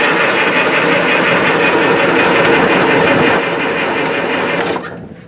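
An old log skidder engine cranks and runs with a loud, steady, rattling mechanical drone at close range, holding constant for several seconds before the sound cuts off abruptly near the end.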